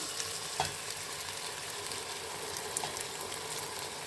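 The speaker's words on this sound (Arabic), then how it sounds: "دابا اخواتي غادي نحاولوا نضيفوا العدس ديالنا" Steady soft sizzling from a soup pot of red lentil soup with vegetables, a continuous frying hiss with a few small clicks, faint and even throughout.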